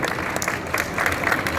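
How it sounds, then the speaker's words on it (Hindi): Loud, sustained applause from a crowd at a ceremony opening a weightlifting and powerlifting facility, steady dense clapping throughout with occasional swells. "जोरदार तालियां"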